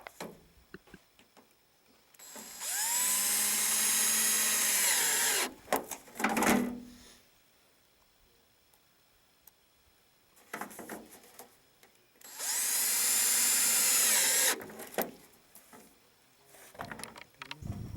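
Cordless power drill driving screws into a house rain gutter, two loud sustained whirring runs of a few seconds each, close up, with clunks and handling noises between them.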